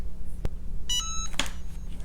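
A heat press timer beeps during sublimation printing onto glitter material, a short burst of electronic tones standing out against a steady low hum.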